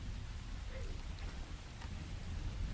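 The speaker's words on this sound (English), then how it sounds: "It has been raining nonstop here for several days now." Steady rain falls for several days nonstop, a constant dense hiss of drops with a low rumble underneath, even and unbroken throughout, with no voices.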